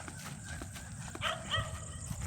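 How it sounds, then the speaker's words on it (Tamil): A dog barks in the distance, two short faint barks close together over quiet background noise. "நாய் வேற குலைக்குது"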